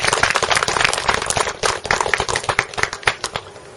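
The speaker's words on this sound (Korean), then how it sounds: "박수 부탁드립니다" Guests at an opening ceremony for a sotdae culture space's tenth-anniversary exhibition clap for an introduced official. Brisk, close, crowded clapping continues throughout without speech.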